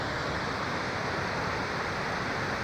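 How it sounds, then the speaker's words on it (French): A large waterfall roars with a steady, dense, broadband rush of falling water, loud and unbroken throughout, with no voices. "il y a une superbe cascade"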